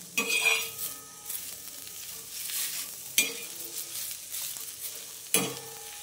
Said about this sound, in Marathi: कोथिंबीरच्या काड्या हे देखील भाजून घेत आहे